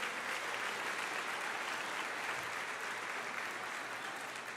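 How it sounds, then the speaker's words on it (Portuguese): A church congregation applauds, a dense, continuous wash of many hands clapping at once, steady and somewhat distant throughout. "aplauda o Senhor"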